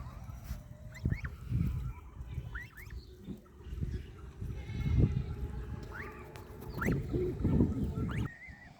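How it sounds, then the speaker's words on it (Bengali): Farm animals call out intermittently over a low rumbling background of vehicles crossing a bridge, with goat and sheep bleats and honking cries from geese rising several times across the clip, by a riverside. "এখানে হাঁসের ডাক গরু ছাগলের আওয়াজ ব্রিজের উপর দিয়ে চলে যাওয়া গাড়ির শব্দ ভেড়ার ডাক"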